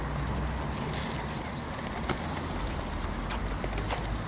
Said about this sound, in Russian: Тут, наверное, много желающих прийти покормить голубей.